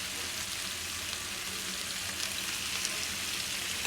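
Chicken pieces fry in oil in a pan with a continuous, fairly quiet crackling sizzle that stays even for a few seconds and has no voices over it.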